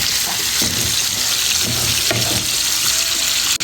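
Lobster pieces and pork belly with onions frying in a hot pan, giving a loud, steady broadband sizzle that runs the whole time with faint stirring noises underneath and no voices.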